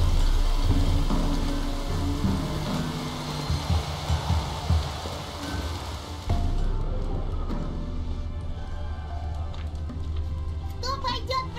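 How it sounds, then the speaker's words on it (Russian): Steady rain falls in The Witcher 3, a continuous broadband hiss that dominates the first six seconds. It then thins into a quieter patter with scattered drips and faint game ambience. "Дождик."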